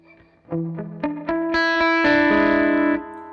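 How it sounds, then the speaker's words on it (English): An electric guitar through a ducking reverb effect plays a short rising run of notes; the reverb stays low while the strings sound and swells into a lingering wash as the last chord rings out, with no talking. "when you play, the reverb is mixed down a little bit, and when you stop playing, it's brought up"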